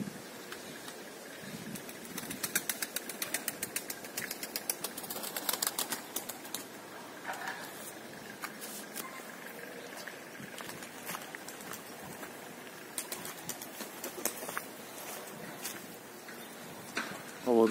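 Özer erat tumbler pigeons flying outdoors on a windy day, wings flapping in quick clustered bursts of clapping, loudest early on and then scattered and fainter over a breezy background.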